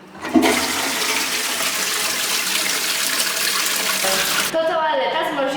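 A toilet flushes loudly and steadily, water rushing for several seconds before trailing into gurgling refill.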